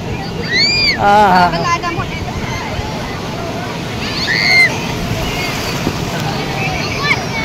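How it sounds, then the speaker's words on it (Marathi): Sea waves wash and slosh onto the shore at Diveagar beach in a steady surf roar with wind, while people talk and shout nearby. "अरे लाटा नाही मोठ्या आहेत."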